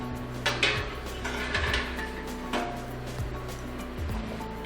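Small metal baking pans clink and scrape as they are handled and slid into a kitchen oven, several soft knocks and rattles over a low steady hum, fairly quiet with no talking.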